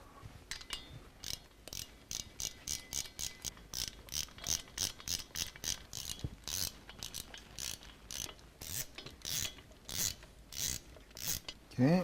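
A ratcheting torque wrench tightening bolts on an S&S Cycle motorcycle engine during a performance upgrade, with rapid bursts of clicking strokes repeating in a steady rhythm, close and fairly quiet.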